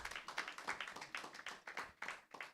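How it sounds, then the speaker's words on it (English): Audience clapping for a woman at a green economy event, a steady patter of hands close by, rising and falling in short waves with no talking over it. "Please, a round of applause for Jennifer."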